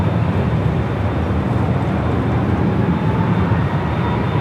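A Lufthansa Boeing Dreamliner airliner taxis at Los Angeles International Airport toward the Tom Bradley terminal, a steady broadband jet engine roar holding level and close throughout without any talk.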